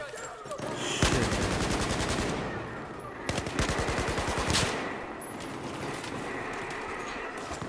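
Gunfire rattles in a Battlefield 4 multiplayer Domination match: several loud cracks, with stretches of fast repeated shots between them, fading to a quieter background of distant battle noise.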